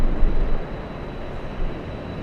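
A Lufthansa Airbus A380 airliner approaches at Los Angeles airport in a strong southern crosswind, giving a broad, steady low roar of jet engines that swells slightly in two short surges, with no talking.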